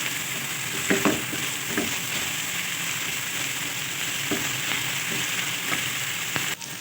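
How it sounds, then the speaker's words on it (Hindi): Chopped onions fry in a pan with a steady, close hiss of sizzling oil, broken by occasional soft scrapes of stirring. "अब मैं इनको फ्राई कर रही हूँ। प्याज को हम थोड़ी देर फ्राई करेंगे।"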